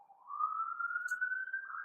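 A single siren tone slowly rising in pitch, fairly faint and distant, sounding alone without talk.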